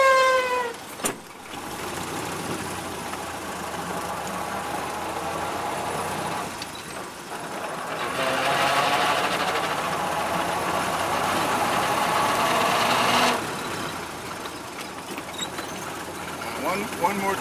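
A Ford Model A engine idles, then revs up for several seconds in neutral while double clutching and drops back down, with voices talking over it.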